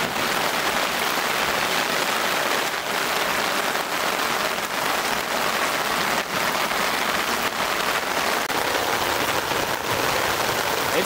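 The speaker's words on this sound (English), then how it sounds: "It's hailing." Hail and rain drum steadily on a tarp shelter outdoors during a storm, a dense, continuous patter with scattered sharper hits throughout, loud and close with no talking.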